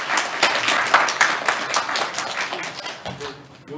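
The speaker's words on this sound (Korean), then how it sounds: "박수로 환영해주십시오." A lecture audience claps to welcome a speaker, a dense burst of applause that stays steady for several seconds and then thins out slightly toward the end, with faint voices mixed in.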